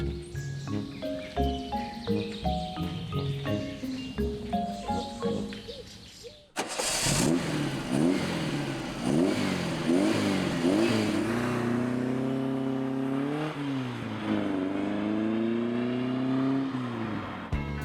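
An orange 1972 VW Beetle 1200 first gives a run of rhythmic puttering pulses, then its air-cooled engine roars into repeated hard revs that climb and fall, loud and close.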